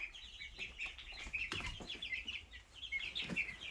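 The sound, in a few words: young chickens clucking in a tote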